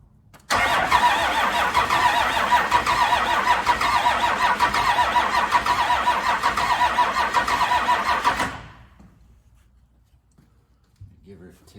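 An abandoned 1992 Dodge Cummins D350 diesel engine is started, cranking briefly before catching and running loudly and roughly for several seconds, then suddenly cutting out into near silence.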